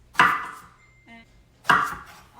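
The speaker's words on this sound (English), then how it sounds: "I'm gonna cut off the end, and then I'm gonna slice it into thin circles" A kitchen knife cuts through a Chinese eggplant on a cutting board, making two crisp, close chops about a second and a half apart, with a faint short clink between them.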